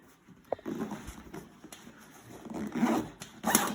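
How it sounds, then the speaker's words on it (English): A quiet zipper is pulled in a few short scraping strokes, close by, ending with a brighter quick zip. "Zipper works extremely easy, good quality."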